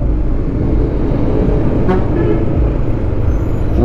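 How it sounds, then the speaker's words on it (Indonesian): A bus pulls in amid heavy truck traffic on the busy mountain road to Berastagi near Pancur Batu, North Sumatra. A loud, continuous engine rumble is close by, with a brief horn or air-brake hiss in the middle. "Ah, bus baru ini masuk nih."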